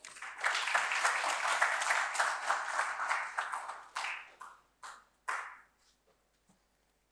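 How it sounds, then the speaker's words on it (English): An audience at an academic lecture claps steadily for several seconds to welcome a speaker, then the applause thins out into a few scattered claps. "Let's welcome him with a big round of applause."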